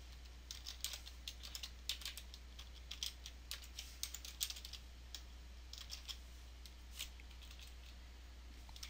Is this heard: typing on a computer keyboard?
yes